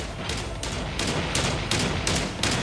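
Rapid automatic gunfire in the mobile shooter Call of Duty Mobile, dense bursts of shots repeating roughly every half second, loud and close with no talking.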